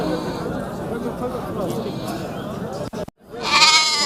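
Sheep bleat at a busy livestock market in Bokhtar, Tajikistan, with a dense murmur of crowd chatter throughout and a loud, close bleat rising near the end.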